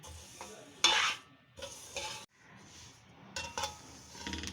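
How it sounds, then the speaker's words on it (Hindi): Flax seeds dry-roasting in a pan, with several short bursts of crackling sizzle and stirring scrapes separated by brief pauses, close and quiet. "इसमें से चिड़चिड़ की आवाज़ें आने लग गई है, आवाज़ें आ रही हैं, ये भुन गई है"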